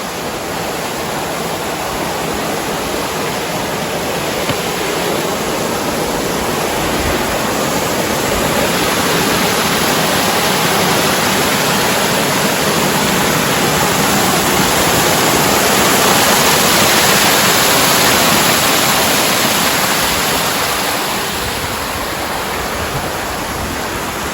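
A waterfall near Sinop in Turkey rushes in a loud, steady roar of falling water that swells slightly midway, with no voices over it.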